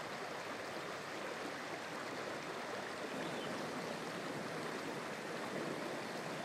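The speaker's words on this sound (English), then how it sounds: "The largest stream in the park is the Big Carp River." Big Carp River, a stream in Michigan's Porcupine Mountains State Park, rushing in a steady, unbroken broadband wash of flowing water at moderate distance, with no voices.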